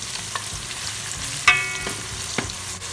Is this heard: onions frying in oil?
yes